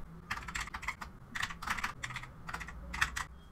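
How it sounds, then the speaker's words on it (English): Fingers tap out quick bursts on a computer keyboard, soft clustered keystrokes separated by short pauses, quiet and close with no voices. "So let's type."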